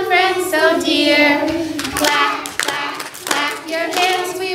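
Children clap their hands in a steady beat while singing a school graduation song at an end-of-year program, with the young voices prominent throughout.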